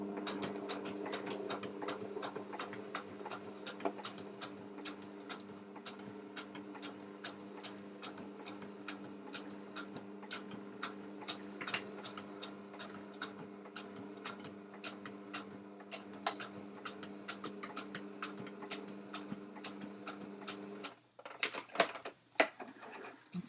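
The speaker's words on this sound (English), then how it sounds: "I'm going to catch that in on this bit as I sew it across." A sewing machine stitches across fabric on a pen wrap, a fast, even mechanical ticking with a low hum, running steadily before stopping with a few handling clunks at the end.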